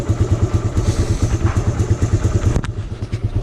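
A Suzuki Raider 150 motorcycle idles close by after carburetor tuning in cold weather, a loud, steady, fast-pulsing single-cylinder putter that runs without break and then drops off slightly near the end.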